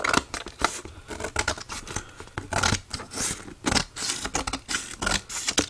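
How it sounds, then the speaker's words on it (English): Scissors cut through paper for a handmade gift box, with repeated crisp snips and rustling in an uneven rhythm, close and clear, with no speech. "I'm just gonna cut it off with my scissor."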